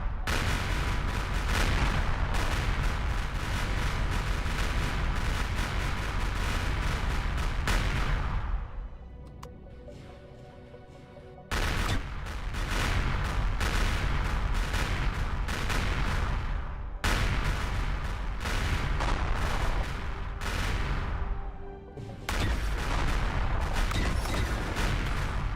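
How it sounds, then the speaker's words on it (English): Missile launchers on a new missile frigate fire in Empyrion (Reforged Eden 2), a loud sustained barrage of booming launches that cuts out briefly twice and resumes, with no talk over it. "And only one of my launchers is firing again."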